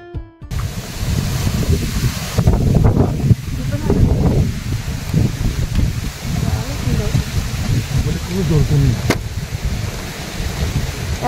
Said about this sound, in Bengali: এত হাওয়া দিচ্ছে আজকে